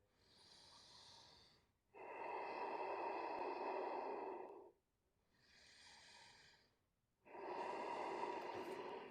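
Deep breathing during a yoga sequence: slow, audible breaths alternating in long phases, with inhales and exhales of roughly two to three seconds each, close and steady with brief pauses between.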